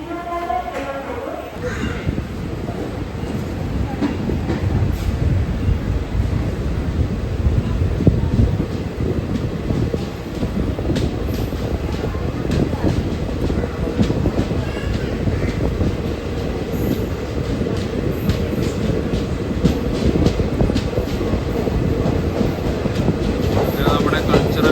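An Ernakulam–Bangalore Intercity SF Express hauled by a WAP4 locomotive rolls out of Thrissur station, heard from inside as a steady loud rumble with rhythmic wheel clatter throughout.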